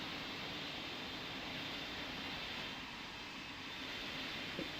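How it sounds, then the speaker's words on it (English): Steady broadband jet engine roar of a FedEx heavy cargo jet taking off from runway 13 in a Roblox pilot training flight simulator, a continuous even rumble and hiss without speech. "FedEx 4235 Heavy, you're cleared for takeoff runway 13"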